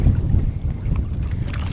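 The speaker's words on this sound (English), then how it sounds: "it is more windy today" Gusty wind buffeting the microphone while kayaking, a loud, steady low rumble with the faint sounds of a boat on water and no talking.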